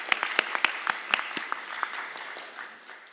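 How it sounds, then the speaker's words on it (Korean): Congregational applause offered to God during a church service at Sejong Myungsung Church: a close cluster of sharp, distinct hand claps that thins and fades over a few seconds. "하나님께 우리 영광의 박수 올려드립니다."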